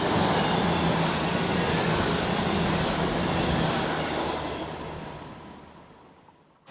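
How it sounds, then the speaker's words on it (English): A train runs loudly past right beside the sea wall on the coastal railway at Teignmouth, a sustained rumbling roar with rail clatter that holds for several seconds, then fades as it draws away. "Oh, here comes a train. And they're quite loud when they do go past."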